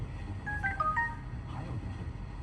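Several short touch-tone beeps come from the Bluetooth phone function of a 2014–2020 Acura MDX dashboard as a number is dialed, a quick cluster of clear electronic tones over a low steady hum, with no talking.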